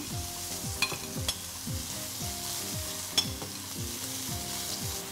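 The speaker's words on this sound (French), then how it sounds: "Alors l'huile est fumante, on pose les girolles dessus." Chanterelle mushrooms sautéing in smoking-hot olive oil, a loud, dense continuous sizzle with a few sharp pops and clicks, close and alone without speech.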